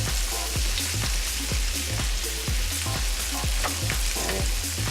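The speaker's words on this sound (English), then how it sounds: "I'm going to stir this around with a wooden spoon so that way we don't scrape up our skillet too much." Onions frying in a skillet for steak and onions, stirred with a wooden spoon: steady loud sizzle with regular scraping strokes about twice a second, close and continuous with no talk.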